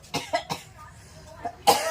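A close series of short, harsh coughs in quick bursts, then a pause and another pair of coughs.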